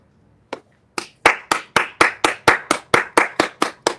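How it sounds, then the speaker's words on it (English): Crisp hand claps ring out close by, two spaced single claps followed by a steady run of about a dozen more at an even, brisk rhythm, with no voices. "Round of applause"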